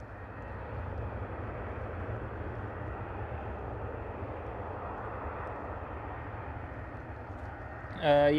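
An airliner passing at Schiphol airport, a steady broad engine roar that holds at a fairly even loudness for the whole stretch, with no voices.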